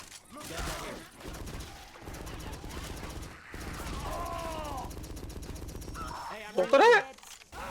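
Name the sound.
gunfire in video game Left 4 Dead 2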